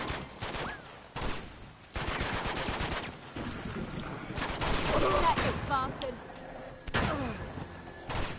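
Automatic gunfire from a firefight in Uncharted 2: Among Thieves, loud and close, arriving in rapid crackling bursts separated by short pauses, with a few brief sharper shots and effects mixed in.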